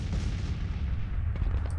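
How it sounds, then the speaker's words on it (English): Artillery fire in the Civil War strategy video game Grand Tactician, a steady low rumbling barrage of distant booms with no speech over it. "A lot of artillery, and I'm honestly really surprised he's able to fire it from up there with all those woods."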